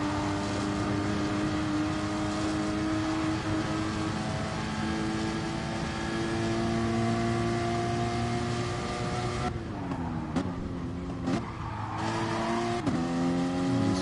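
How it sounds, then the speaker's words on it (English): Porsche club sport Group 4 race car in GT Sport sliding, its engine droning loud and steady with shifting pitch, then revving and dropping through gear changes near the end; no talking. "Slides the car around in the club sport."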